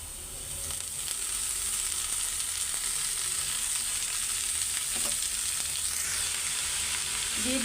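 Leafy greens sizzle in a hot pan with a constant, even hiss, while occasional soft scrapes of a spatula stir them.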